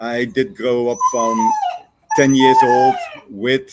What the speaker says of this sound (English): That's a dog, right?